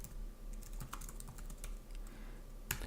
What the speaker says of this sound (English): For description, we'll type a test yarn package.